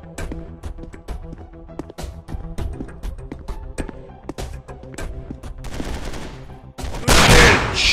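Rapid gunfire from the Counter Terrorist Strike 2020 mobile shooting game: dense bursts of sharp shots with irregular rhythm, closing in a loud, sustained blast or explosion-like roar.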